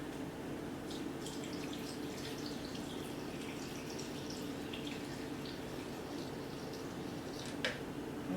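A steady trickle of water poured into a blender holding blueberries and sea moss for a fruit smoothie, continuous and moderately close over a constant hiss, with no talking.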